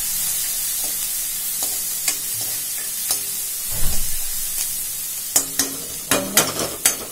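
Onion and garlic cloves frying with cumin in a pan, a continuous close sizzle broken by repeated scraping stirs that grow more frequent toward the end.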